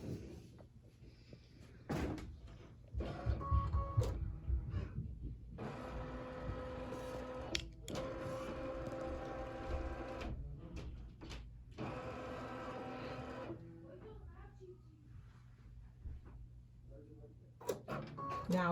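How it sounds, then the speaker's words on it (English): A Brother Luminaire embroidery machine scans fabric with a motorized whirring carriage that runs in several long passes separated by clicks and short pauses. The sound is moderately close and steady, and there is no talking. "I'm going to push scan"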